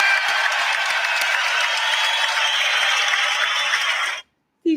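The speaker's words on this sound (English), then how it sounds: "I'm going to put a large crowd applause sound effect on for the marshmallow" A large crowd applause sound effect plays on a live show, a broad, even roar of many clapping hands holding steady for about four seconds before cutting off abruptly to silence.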